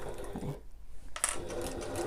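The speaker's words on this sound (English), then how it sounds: "I'm just going to back stitch over that and back over again" A sewing machine back stitches over the thick flap edge of a fabric backpack in short whirring bursts with a quick pause in the middle, close up and without voices.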